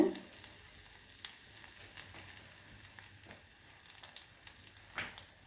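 Quiet, crackling sizzle of mustard seeds, urad dal and cumin tempering in hot oil for rasam, with scattered pops and a few stirring clinks, close by and without speech.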